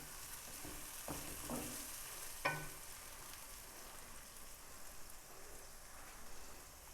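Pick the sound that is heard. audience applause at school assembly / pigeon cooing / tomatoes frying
tomatoes frying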